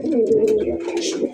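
Pigeons at a pigeon farm cooing close up, giving one steady, throaty, rolling coo that lasts the whole brief moment.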